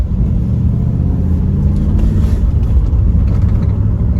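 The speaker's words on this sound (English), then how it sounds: "And this car can quite happily keep up with modern traffic." A Triumph Stag classic car engine drives along, a loud, steady low rumble from inside the car that keeps an even pace with slight shifts in engine note.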